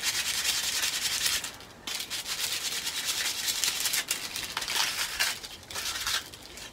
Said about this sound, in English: just to give it a bit of a sand, just to restore it back to being nice and round